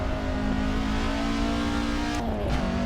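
Honda Acty kei truck engine in the Assetto Corsa racing game, a steady high-revving drone held near the top of fifth gear, with a brief dip and shift in pitch near the end, loud and continuous with no talk.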